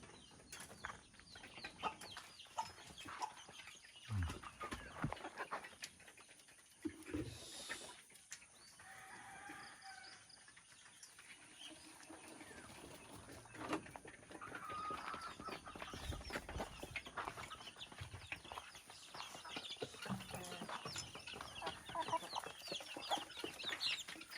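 Backyard pet chickens cluck steadily throughout, with a few louder calls and possible rooster crowing mixed in, close by against outdoor ambience.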